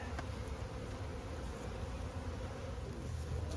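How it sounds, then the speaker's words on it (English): Upset honeybees buzz around small beehives in an apiary, a faint, continuous droning hum with no voices, steady from start to finish. "Today is going to be a day that we're going to have a lot of upset bees"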